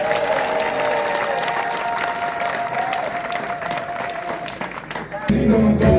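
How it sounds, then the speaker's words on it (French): Applause from a crowd at a 2023 presidential campaign rally in Libreville, Gabon, a dense continuous clatter of clapping mixed with music, swelling louder and fuller near the end. "Alors on peut l'applaudir."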